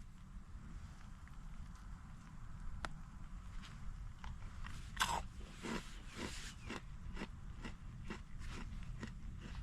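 Cheese-filled Combos pretzels crunched on a rainy hike, a run of sharp dry bites and chewing crackles spaced through steady outdoor wind and rain noise, fairly faint and close.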